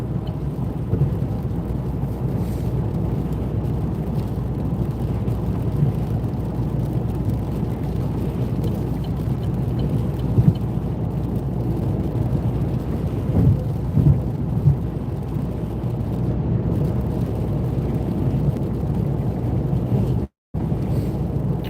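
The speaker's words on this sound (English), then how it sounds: "We've had no rain all day, and now you're raining." Heavy rain falls steadily and continuously outdoors, a dense, even wash of noise with no talking.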